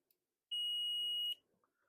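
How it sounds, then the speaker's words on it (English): A cheap multimeter gives a single loud, steady, high-pitched continuity beep lasting under a second, clear against near silence. "So it's got a nice loud beep."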